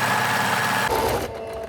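A sewing machine set to an overlocking stitch at 2.5 runs fast along a raw fabric edge in a short, loud, continuous burst, then slows and stops, with no speech.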